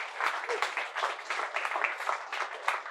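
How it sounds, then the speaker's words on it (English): An audience at a platform engineering meetup in a venue applauds, a dense patter of many hands, moderately quiet and even, fluctuating slightly but continuous for the whole stretch. "big round of applause for yourself, please"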